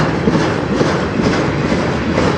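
CN freight train 392 rolls past on the rails with a loud, continuous rumble and rhythmic clickety-clack of wheels over joints, close and steady throughout.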